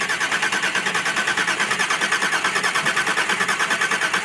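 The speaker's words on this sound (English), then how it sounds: "The starter works." A ZZ6 crate engine in a car being cranked on the starter during an engine swap, a steady fast rhythmic churning that continues evenly without catching, no voices.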